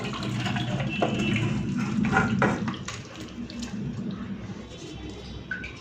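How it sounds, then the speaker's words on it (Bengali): Fish curry (macher jhol) poured out of a cooking pot in a home kitchen: a steady, close liquid pour and slosh that lasts the whole stretch, with faint clinks and no speech. "তো মাছের ঝোল হয়ে গেছে, এখন ঢেলে ফেলছি।"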